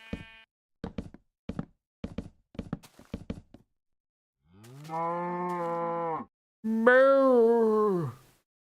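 A cow in the Minecraft video game moos twice, loud and close, in long drawn-out calls after a run of quick knocking thuds. No voices are heard.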